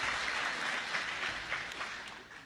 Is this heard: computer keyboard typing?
no